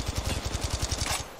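Wingman pistol firing in the mobile video game Apex Legends Mobile: a rapid string of about a dozen punchy shots in quick, even rhythm, close and loud, ending in a brief tail.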